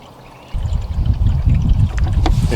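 Coolant from a Toyota/Lexus 3MZ-FE V6 engine starts draining and then runs in a steady, close trickling stream after a quiet start.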